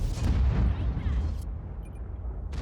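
A booming gunshot in a video game shooter, heavy low-end blast with a rolling decay, loud and close, no talk over it.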